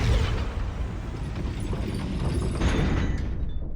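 A fiery blast from the Confringo spell in Hogwarts Legacy: a dense, rumbling explosive roar that stays loud throughout and brightens near the end before cutting off, with no voices.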